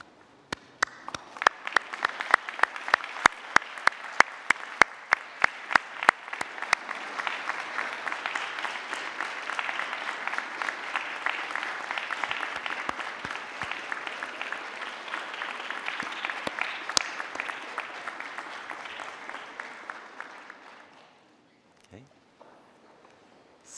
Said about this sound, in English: can I ask you to stand and turn and face your family and friends and applaud them?